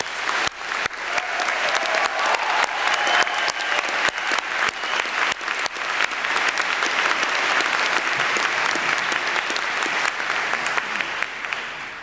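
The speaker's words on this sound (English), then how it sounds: "Let's hear a round of applause for Ken Keller." Sustained audience applause at a university dean's welcome event, dense and steady clapping from a large crowd lasting the full length, loud and close with no pauses.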